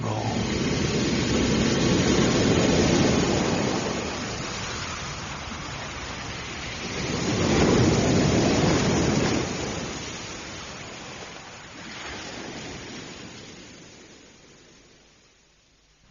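Waves roll and wash onto a beach at night, broad surging rushes of surf swelling and fading in slow cycles, close and full, dying away toward the end with no talk.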